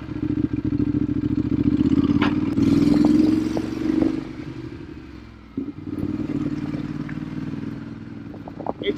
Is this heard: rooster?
no